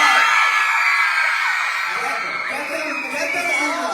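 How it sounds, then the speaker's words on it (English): An excited audience at a live show in Toronto screams loudly and continuously, a dense wall of high-pitched shrieks and whoops from a large crowd with no pause. "everyone get your scream. We've been having a lot of excited screams,"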